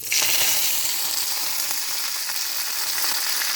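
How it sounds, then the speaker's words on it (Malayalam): Mustard seeds and curry leaves hitting hot coconut oil in a pan for a Kerala thoran, a sudden loud crackling sizzle that starts at once and holds steady, close and alone, without voices. "എണ്ണ ചൂടായ ശേഷം നമുക്കതിലേക്ക് കടുക്, കറിവേപ്പില ഇട്ട് കൊടുക്കാം."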